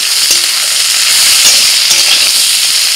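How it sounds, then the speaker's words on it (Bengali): Round-sliced onion hits oil with half-fried bitter gourd, giving a loud, continuous close-up sizzle with faint stirring, no voices. "করলা অর্ধেক ভাজা হয়ে যাওয়ার পর আমি পেঁয়াজ দিয়ে দিচ্ছি"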